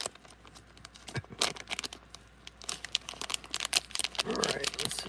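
Foil trading card pack wrapper, a new Prizm Soccer pack, crinkling and tearing open in close bursts of rustling and ripping, with brief crinkles between pulls.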